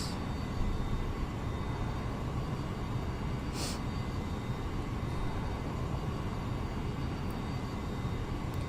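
Steady, loud jet engine roar from a Boeing 737-800 climbing in the X-Plane 11 flight simulator, a continuous broadband drone with no talking.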